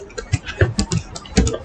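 Typing on a computer keyboard, a quick uneven run of soft key taps at close range, fairly quiet, without speech.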